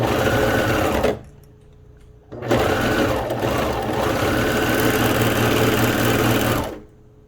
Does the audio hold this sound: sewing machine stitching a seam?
yes